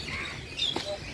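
Small birds, including a yellow one, chirp briefly in an outdoor setting; a couple of faint, short high tweets come through over steady background noise.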